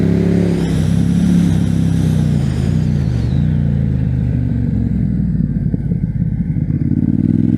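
A Ducati Diavel Carbon motorcycle engine with a deep, throbbing twin-cylinder rumble, loud and close, revving then settling into a steady lope as the bike slows under engine braking.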